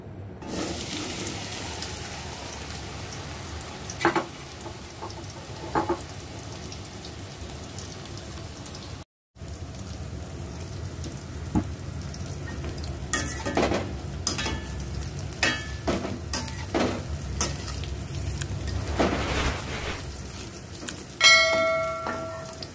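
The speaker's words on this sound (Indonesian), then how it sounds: "Ini panaskan minyak dulu untuk menggoreng tempenya." Constant crackling sizzle of tempeh frying in hot oil, with scattered pops and clinks of utensils, close by and without talk.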